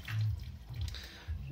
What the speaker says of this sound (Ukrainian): От раді прикола набираю в крані.